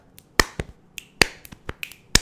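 About ten sharp finger snaps crack out in an irregular series, close and crisp against near silence, used to sync podcast audio.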